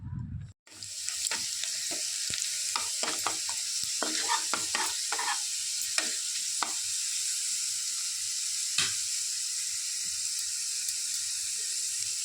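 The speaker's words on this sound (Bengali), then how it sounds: "সেই বাটা মশলাটা দিয়ে দেব।" A ground spice paste, blended in a mixer, fries in a pan for an egg omelette curry. It gives a loud, steady sizzle throughout, with quick scraping stirs in the middle stretch and no voices.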